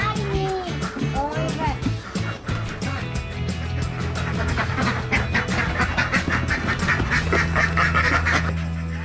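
Ducks quack on a duck farm where laying ducks are kept, a dense, continuous chorus of many birds with rapid overlapping calls, loud and close, mixed with some background voices.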